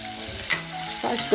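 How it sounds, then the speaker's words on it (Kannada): Onions frying in hot oil, a brief close sizzle that swells with a sharp crackle when they hit the pan, short and moderately loud. "ಎಣ್ಣೆ ಕಾದಿದೆ ಇದಕ್ಕೆ ಈರುಳ್ಳಿ ಹಾಕ್ತಾ ಇದ್ದೀನಿ"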